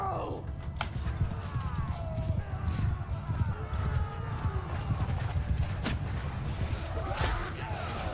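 Cavalry horses gallop in a massed charge in the Bannerlord video game, Aserai riders thundering forward with dense, continuous hoofbeats and a steady low rumble of battle noise, loud and close throughout.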